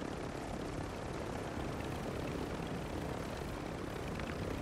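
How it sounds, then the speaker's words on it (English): A helicopter flies in Warzone 2, a constant loud rotor and engine drone filling the whole stretch without pause. "we are trying the no-kill helicopter win strategy"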